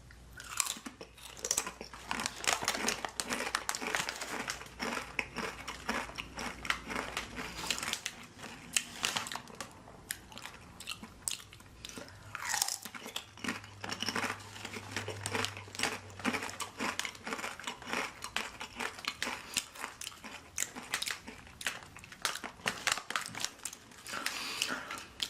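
Crunchy Doritos Blaze tortilla chips being chewed up close, loud repeated crisp bites and crunching in an irregular rhythm that carry on throughout, with short pauses between mouthfuls.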